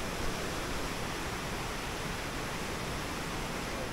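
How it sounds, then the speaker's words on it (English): A river rushes beside waterfalls on an Oregon forest trail, a dense, steady broadband roar of flowing water, constant and fairly close, with no voices. "Just hear that river."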